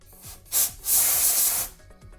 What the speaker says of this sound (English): now I just want to sand this nice and smooth